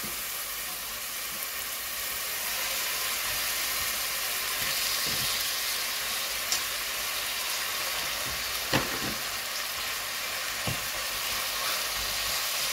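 Meat pieces searing in a hot pan for loubia, a steady broadband sizzle running throughout with a few faint clicks and stirs, no voices.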